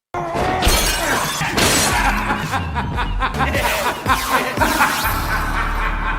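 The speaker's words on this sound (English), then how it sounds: "Jim smashes all the mirrors in the room, trying to help his brother feel better." Mirrors smashed one after another inside a room, a loud, dense run of crashing and shattering glass with voices mixed in throughout.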